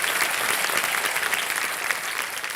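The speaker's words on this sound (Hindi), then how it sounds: "तालियों के साथ इनका स्वागत किया जाए।" Studio audience at the Kaun Banega Crorepati quiz show applauds to welcome contestant's parents, steady dense clapping filling the short stretch at moderate level with no talk over it.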